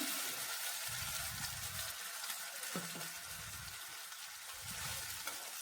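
Spice paste frying and spluttering in hot oil tempering for an Ugadi festival lunch, a steady soft sizzle with gentle crackles and occasional stirring, close and quiet with no talk.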